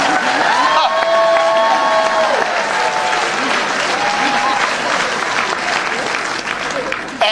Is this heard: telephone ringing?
no